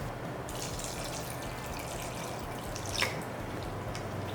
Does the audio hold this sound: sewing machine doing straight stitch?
no